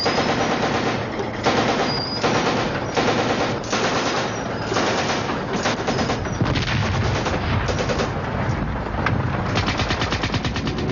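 A World War I tank fires its machine guns and 6-pounder naval gun: loud, dense bursts of rapid gunfire break into repeated heavy shots with little pause, close and continuous throughout.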